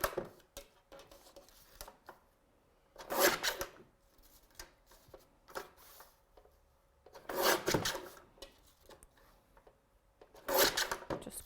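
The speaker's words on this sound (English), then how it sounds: "I'm just going to grab my guillotine, and our original image I'm just going to trim down." A paper guillotine trims the white border off a watercolour card image, with three distinct rasping slicing strokes spaced a few seconds apart, separated by quiet handling and faint shuffling.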